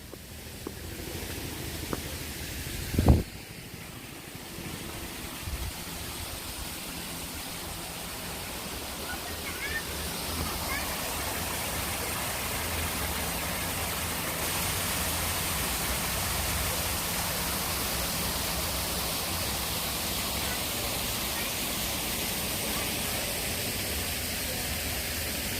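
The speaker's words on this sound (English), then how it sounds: "But the waterfall is awesome." Steady, broad rushing roar of a waterfall in Central Park's North Woods, New York, in winter, continuous and enveloping throughout, with a brief sharp knock early on and faint voices now and then.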